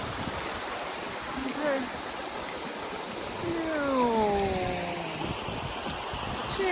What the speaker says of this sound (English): There's waterfall number 3.